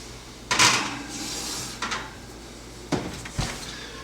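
An oven door opens and shuts as a bowl of covered pretzel dough is set inside to proof, giving a loud creak and clunk followed by several sharper knocks and thuds.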